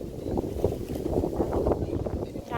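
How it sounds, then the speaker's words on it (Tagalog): Strong seaside wind at a squash field roars steadily against the microphone, a constant rumbling buffet with gusty swells and no pauses. "Grabe ang lakas ng hangin"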